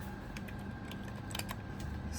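A code typed on a computer keyboard, with scattered light keystrokes clicking irregularly over a steady background hum.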